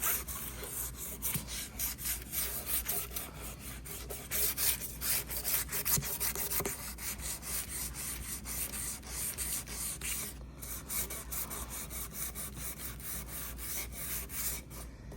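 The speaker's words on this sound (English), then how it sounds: "now we're going to just sand off the whole piece" Sandpaper works over the whole surface of a handmade wooden Christmas angel, a continuous close scratchy rubbing with a steady back-and-forth rhythm that carries on throughout without any talk.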